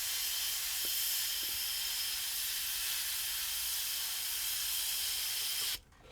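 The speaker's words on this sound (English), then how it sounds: "the air is driving the paint onto the subject" An airbrush sprays paint onto model railroad track with a steady, close hiss of air that holds evenly for several seconds before suddenly cutting off.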